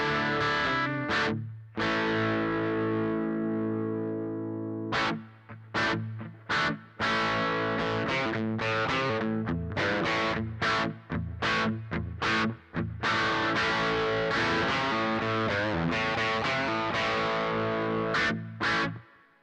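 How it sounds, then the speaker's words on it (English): An electric guitar played through an amp with reverb added rings out in loud, distorted chords, sustained strums broken by short choppy stabs and brief gaps, with no talking. "When you add more reverb, it kind of gives it a wetter, fuller sound to it."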